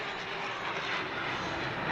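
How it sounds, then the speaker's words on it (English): Sukhoi Su-30 MKI jet fighters of the Indian Air Force roar past during a Republic Day flypast over Rashtrapati Bhavan. The loud, broad roar holds steady and continuous throughout, with no talking. "That's the roar of the Sukhoi 30s"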